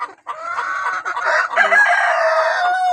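Laying hens in an egg-laying box cluck loudly and close, a continuous run of overlapping clucks and drawn-out calls rising in intensity over a few seconds.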